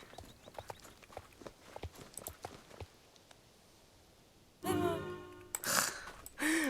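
Horse hooves clip-clop in the video game Star Stable Online, a light, moderately quick patter of steps, then a louder burst of game sound toward the end, with no voices.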